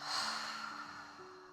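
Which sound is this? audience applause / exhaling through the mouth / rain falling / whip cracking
exhaling through the mouth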